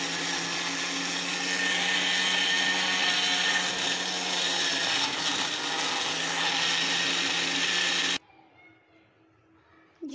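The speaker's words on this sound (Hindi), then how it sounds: "इसे अब मैं ग्राइंड कर रही हूँ।" Tomatoes with a little water whir loudly in a kitchen mixer grinder for about eight seconds, a steady high-pitched motor roar that cuts off abruptly and leaves near silence.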